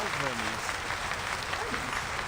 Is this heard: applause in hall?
yes